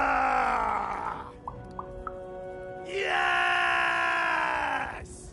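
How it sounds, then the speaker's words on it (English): Warriors in Lost in Random let out long, loud screams and battle cries, with a sustained shout, a pause with small clicks, then a second drawn-out yell. "We need to scream so that our enemies know that we're here!"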